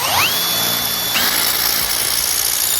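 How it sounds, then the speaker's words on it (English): A power drill with a larger bit enlarges pre-drilled holes on a DIY foot brake for an electric pit bike, spinning up to a high steady whine, briefly dropping and restarting, close and loud. "So now I'm gonna open this up and do it with a much bigger drill bit to actually fit the bolts."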